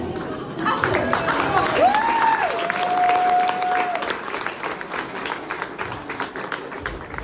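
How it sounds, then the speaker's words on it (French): Audience applause at a French ceremony, a steady wash of clapping from a crowd with a whistle or tonal sound rising through it, a voice speaking over the top. "Donc on peut encore une fois les applaudir."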